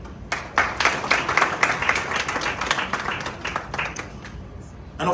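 A stadium crowd in Kumasi gives a big round of applause, dense clapping swelling and holding steady for several seconds, with a few voices faintly underneath.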